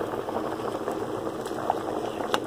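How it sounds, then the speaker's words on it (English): Steady bubbling of rice boiling in a pot with lemon zest and cinnamon sticks, a continuous close simmer with small pops and gurgles throughout, no voices. "I'm boiling my rice with my lemon zest and also my cinnamon sticks"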